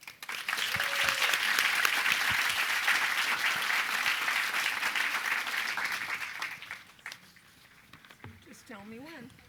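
Audience applause welcoming authors at a book talk, a full steady clapping for about six seconds that fades out, followed by a brief voice as it dies down.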